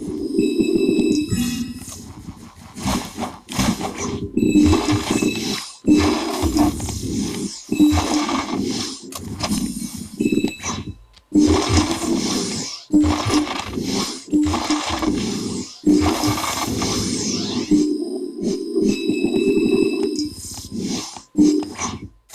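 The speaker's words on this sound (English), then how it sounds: "what you are hearing there is the DualSense speaker, but also the haptics converted into sound." Punchy, buzzing game sounds from the small built-in speaker of a PlayStation 5 DualSense controller, with rumbling low-end haptic vibration pulses converted to sound and rapid bursts that stop and start over about twenty seconds.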